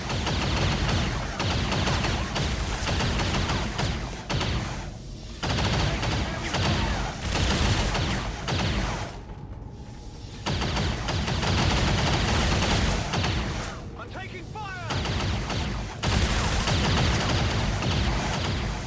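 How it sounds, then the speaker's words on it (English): Dense bursts of gunfire from the video game XCOM 2, loud and nearly continuous with rapid overlapping shots, broken only by two brief lulls. "It's too much shooting."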